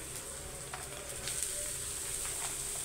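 Broad beans tossed into half-sautéed onion and curry leaves in a pan give a steady, moderate frying sizzle with soft stirring scrapes, heard alone without voices.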